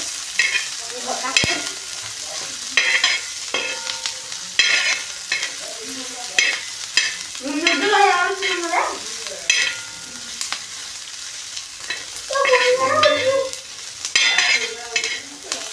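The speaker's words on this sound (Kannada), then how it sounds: "ಹಸಿಮೆಣ್ಸಿನ್ಕಾಯಿನೂ ಕೂಡ ಸ್ವಲ್ಪ ಹುರ್ಕೋಬೇಕು" Onion and green chillies fry in a pan, a loud continuous sizzle broken by repeated scrapes and stirring knocks of a spoon, with rising bursts of crackle as the mix is turned.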